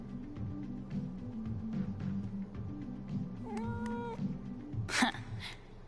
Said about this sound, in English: It's a very grumpy looking cat.